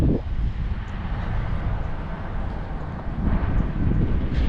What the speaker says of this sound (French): Il y a un peu de vent qui fait du bien tellement il fait chaud.